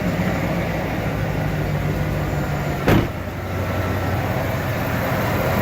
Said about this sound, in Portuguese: o motor funcionando bem redondo, bem liso, como um bom V8 tem que ser